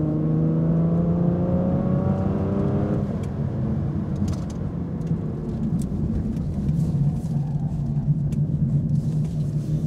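An Aston Martin V12 Vantage Zagato rounds a bend, its loud V12 engine note falling away as it eases through the corner, then a steady rumble and whir of the car rolling on, near and with no talk.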